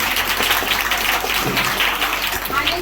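Students give a judge a round of applause during a school quiz for Constitution Day. The clapping is broadband and dense, holding steady and loud for the whole stretch with no voices over it.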